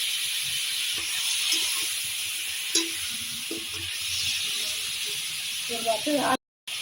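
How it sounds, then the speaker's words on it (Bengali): Chicken lightly frying in a pan for a Shahi Mughal chicken dish gives a steady, close sizzling hiss with a few faint stirring clicks, while a person talks quietly over it. "চিকেনটা অল্প হালকা ভাজা হয়ে গেছে"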